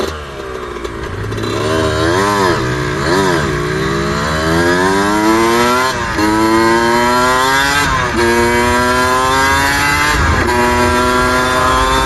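A dual sport dirt bike engine runs loud and close, its pitch swinging up and down with repeated throttle blips and surges rather than holding a steady idle; no one talks.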